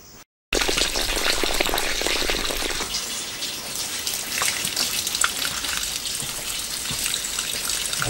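Water rushing through a newly built greenhouse watering pipe system as it is flushed, a sudden loud, steady hiss and gush that starts abruptly and continues without pause.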